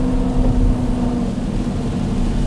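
Dodge Durango RT with its exhaust chopped off, a steady low idle rumble heard from inside the vehicle, muffled and constant without revving.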